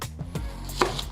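A knife cuts down through a large onion on a board, giving a few soft, quiet thuds and one sharper chop near the end, with no talk.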